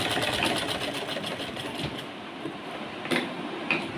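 An electric sewing machine stitching pleats into a fabric puff sleeve runs in a fast, steady whirring rattle, easing briefly before a sharper clack and then resuming.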